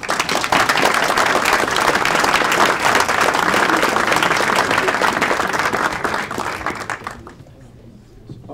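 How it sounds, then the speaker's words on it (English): Sustained audience applause at a formal congressional breakfast, loud and dense clapping from a large crowd for about seven seconds before fading out. "We can give you a round of applause."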